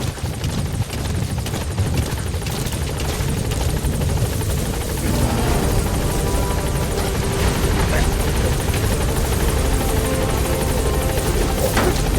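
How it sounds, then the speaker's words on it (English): A support helicopter in the Metal Gear Solid V video game hovers at a landing zone, its loud, steady rotor thrum and turbine whine filling the scene continuously and close by. "Support helicopter has arrived."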